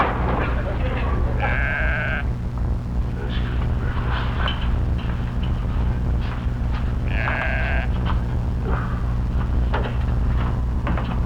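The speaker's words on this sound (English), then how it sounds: "The sheep. Maybe he's calling something." Two loud, drawn-out sheep bleats stand out over a constant low engine-like drone, with quieter voices talking in between.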